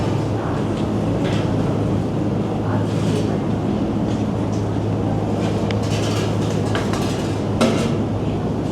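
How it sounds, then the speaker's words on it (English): Low steady rumble of a Soviet-era Georgian train at a station in Chiatura, Georgia, with clinks and rattles, while people talk faintly in the background. "And a beautiful Soviet Georgian train."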